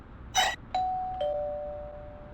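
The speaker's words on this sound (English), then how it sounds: "try the pretty straightforward option of ringing the doorbell" A two-tone electronic doorbell chimes in a PS1 horror game, Yuuyami Doori Tankentai: a brief burst, then two clear ringing tones that decay slowly, alone over a quiet background.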